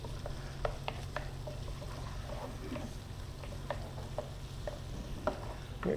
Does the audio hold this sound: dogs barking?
no